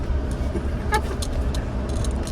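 A car on the road, a steady engine and road rumble throughout, close and fairly loud, with a brief horn-like tone partway through.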